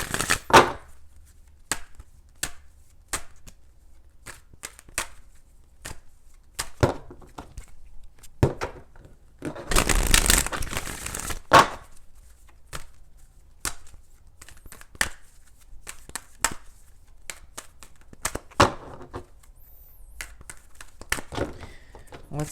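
Tarot cards are shuffled repeatedly in short riffles and snaps, with a longer flurry of shuffling in the middle, close and crisp.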